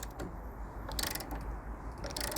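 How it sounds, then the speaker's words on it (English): Spanners ratcheting on nuts to press a rubber shock bush out of a Mitsubishi 3000GT/GTO 4WD suspension, giving close metallic clicks and grinding over a steady low hum, with louder bursts partway through and at the end. "So I'll put a spanner on that nut, a spanner on that nut"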